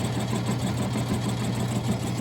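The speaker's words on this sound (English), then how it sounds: "turning down a little section of double D shaft to fit inside that 1-inch 48 spline shaft" A lathe turns down a section of 3/4-inch double D steel shaft, giving a steady, continuous motor hum with a dense mechanical whir, close and fairly loud, with no talking.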